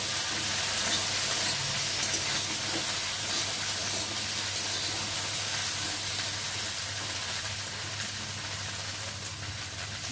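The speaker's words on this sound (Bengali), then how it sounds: "এখন কেটে রাখা ভেন্ডিগুলোকে দিয়ে তেলের মধ্যে ভালো করে ভেজে নিলাম" Cut okra frying in hot oil in a pan, a loud, steady sizzle and hiss that runs unbroken throughout, close by and without any voices.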